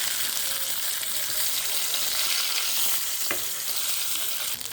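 Pangas fish fries in oil in a wok with salt and turmeric, producing a loud, steady sizzle with faint stirring scrapes and a single sharp tap partway through.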